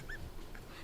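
A dog gives a brief, faint whimper near the start, a short high whine over a quiet room background.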